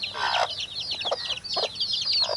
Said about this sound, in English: Those two hens are raising that big bunch of chicks.